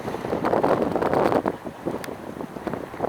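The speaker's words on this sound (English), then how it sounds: "I know it's windy as hell." Strong wind buffets the microphone outdoors in steady loud gusts, roaring and rushing with no speech.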